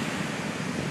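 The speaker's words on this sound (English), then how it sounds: "It's a little bit windy" Steady wind rushes across a Caribbean Sea beach beside a resort, a dense continuous roar like surf with no pauses.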